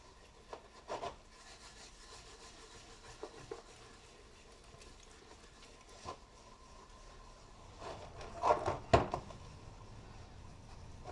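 A wooden cutting board from an O'Day 28 sailboat is scrubbed clean before oiling, making faint, soft rubbing strokes with a few louder scrapes and knocks toward the end.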